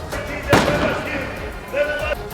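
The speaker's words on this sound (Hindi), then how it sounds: "इसके बाद तो जोरदार धमाका हुआ और धमाके की तेज आवाज हर तरफ गूंज उठी" A single sharp explosion bursts out after a petrol bomb is thrown at a farmers' protest in Chandigarh, one loud crack followed by fading echo, with people talking around it.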